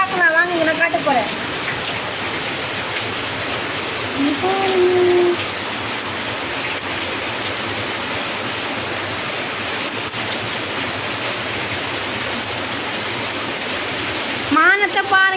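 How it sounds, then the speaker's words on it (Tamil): Heavy rain pours down in Chennai, Tamil Nadu, as a loud, dense, steady roar of falling water with a few faint sounds in the background. "உங்களுக்கு ஏன்னா ரொம்ப மழை பெய்யுது"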